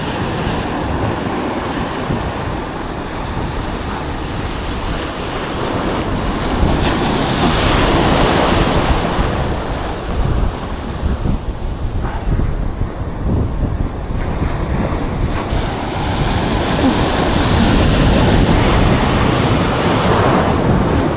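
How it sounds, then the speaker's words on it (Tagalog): Large sea waves crash and wash on a beach during shore fishing, a continuous loud roar of surf with heavy wind buffeting the microphone and swelling surges throughout, no voices. "Masyado pa naman yung mga alon ng lalaki na"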